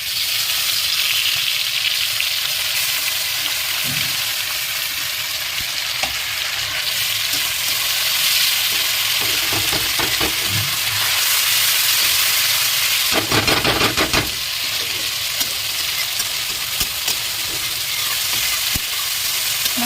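A spice paste of ground onion, garlic, ginger and cashew fries in hot oil with a constant loud sizzle and hiss, punctuated by scraping stirring bursts from a spatula.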